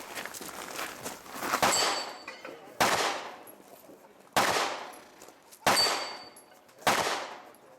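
Gunshots from a pistol caliber carbine at an action pistol side match, five sharp, loud reports spaced roughly a second or more apart, the first preceded by a burst of rapid shots, each decaying with outdoor echo.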